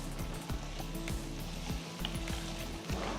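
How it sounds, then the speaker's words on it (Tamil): Small peeled shallots sauté in a pan with a steady close sizzle, and a spoon stirs and scrapes now and then, all without speech. "ஸோ இது ஒரு 5 மினிட்ஸ் நல்லா வதங்கட்டும்."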